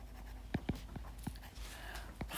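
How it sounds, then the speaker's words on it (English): Chalk or marker writing on a board during a maths lecture: a handful of quick, faint scratchy strokes in an uneven rhythm over a low room hum, without talk. "Let's write it down here."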